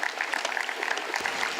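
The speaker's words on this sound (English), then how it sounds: "Can we hear some claps once again for the lovely words that we shared?" An audience at a literature festival session claps on cue after a speaker's remarks, giving steady, brisk applause from many hands at moderate volume in an indoor hall, with no talking over it.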